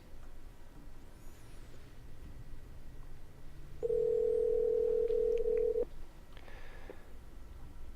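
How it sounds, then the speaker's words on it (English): A telephone line tone while a podcast host calls a guest, a steady clear tone holding about two seconds over a faint background hiss, followed by brief clicks, no talking. "Let's try to get him on the phone."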